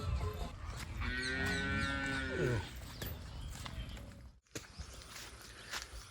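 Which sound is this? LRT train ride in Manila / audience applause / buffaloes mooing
buffaloes mooing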